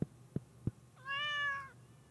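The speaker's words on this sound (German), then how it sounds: "Katze ist geknuddelt" A cat in the video game Stardew Valley lets out one clear, drawn-out meow after being petted, preceded by three soft rhythmic thumps.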